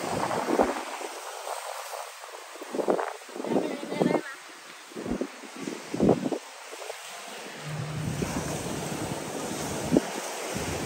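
Strong storm wind gusts at Punta Cana, buffeting the microphone in heavy bursts. People talk and call out over the roar, which settles into a steadier rush toward the end.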